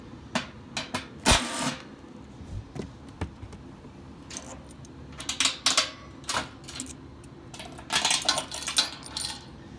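A 3/8 bolt dropping into a furnace blower compartment during a motor replacement, giving scattered metallic clinks and rattles, several close sharp hits in clusters across about ten seconds against a quiet background.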